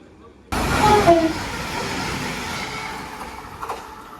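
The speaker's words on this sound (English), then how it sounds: "197-041 going from Cardiff Central to Holyhead" Transport for Wales class 197 train 197-041 passing through Shotton station on its run from Cardiff Central to Holyhead, a loud sustained rumble that starts abruptly and holds steady, with brief horn-like tones early on.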